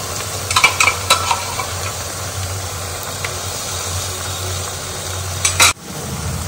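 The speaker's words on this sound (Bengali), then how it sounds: "হালকা ভাজা ভাজা হয়ে যাওয়ার পর এর মধ্যে দেব দু চামচ আদা রসুনের পেস্ট।" Onions frying with a ginger-garlic paste for a restaurant-style chicken dopiaza, stirred in the pan: a steady sizzle with a low hum beneath, clattering spoon scrapes early on and another sharp scrape near the end.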